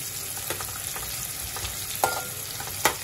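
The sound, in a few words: onions frying in oil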